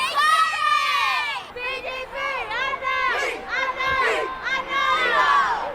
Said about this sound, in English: for others it's all about cheering their classmates on and having pride in their school